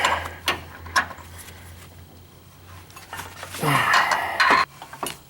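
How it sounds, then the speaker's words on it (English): A wrench turns bolts on a Teraflex leveling kit during installation on a Jeep JK, giving a series of sharp metallic clicks and scrapes over a quiet background. "I'm just using a wrench."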